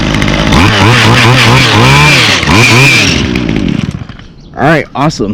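A string trimmer with a bad trimmer head runs loud and close, its small two-stroke engine revving up and down in wavering surges, then dropping away before a couple of short blips, with a voice briefly speaking near the end.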